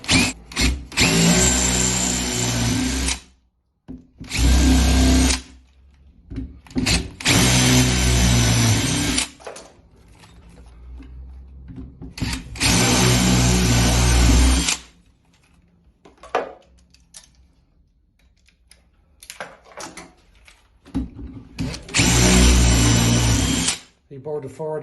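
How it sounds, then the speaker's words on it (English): Power drill fitted with a 3/8 bit boring out the heads of rivets on a window handle, running in several long bursts separated by pauses, with a person talking in the gaps. "You bore the four of them, the heads of the rivets out."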